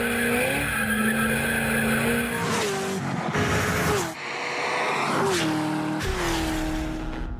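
A Corvette ZR1 C6 with a 638-horsepower engine skids with loud, wavering tire squeals in repeated bursts, the engine roaring underneath and the screech rising and sliding in pitch.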